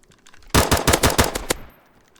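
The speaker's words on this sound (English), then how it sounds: "I'm gonna have to shoot him." Rapid burst of automatic gunfire from a weapon in the zombie survival video game DayZ, about a second of loud, closely spaced shots in a tight rhythm, then a short fading tail into quiet.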